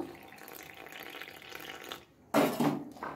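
Water is poured into a bowl of mixed dry batter ingredients, a soft trickle that swells into a louder splashing pour near the end.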